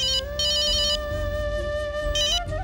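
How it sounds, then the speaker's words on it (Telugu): A phone ringtone playing a melodic electronic tune in bright repeating bursts, loud and close, with no talking. "ఇదిగో ఫోన్ మోగుతోందక్క"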